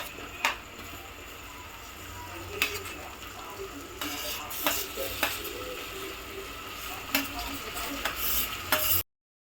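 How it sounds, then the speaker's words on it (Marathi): Vegetables are stir-fried in a pan: a soft continuous sizzle with repeated scraping and clattering of a spatula against the metal, moderately close, ending abruptly in silence. "ह्या थोडा वेळ परतून घ्यायचे."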